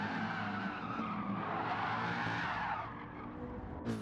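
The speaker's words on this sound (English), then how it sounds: "he's just going to do some burnouts" A car does burnouts in a GTO time trial game, its tires screeching in a loud, steady skid over a roaring engine that holds for about four seconds before a sharp break at the end.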